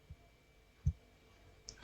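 Quiet, isolated computer mouse clicks, two or three soft taps spread across a near-silent background with no voices.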